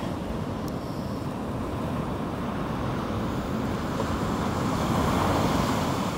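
Sea waves break on the shore at Palanga in a steady, close, broadband roar of surf, with wind buffeting throughout and no voices.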